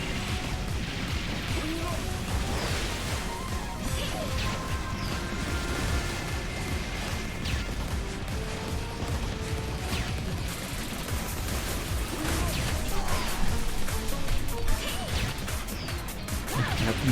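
Dense gunfire, crashes and explosion effects from the mobile shooter Metal Slug Awakening pile up continuously, with someone talking over the constant battle noise throughout.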